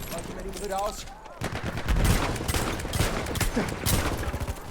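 Pump-action shotgun fire in the game Battlefield 1, several loud close blasts with the chaos of a battle around them, and someone talking over the start.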